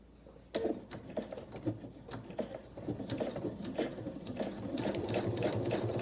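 Sewing machine back stitching along a seam in a vinyl pouch, a rapid run of needle strokes with short pauses and a few sharp clicks, close and steady, without voices.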